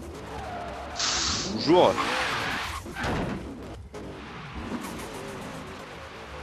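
Mazda RX-7 in Forza Horizon 3 skidding with a burst of tire squeal and engine noise, the screech rising then fading into steady driving rumble, while someone speaks briefly over it.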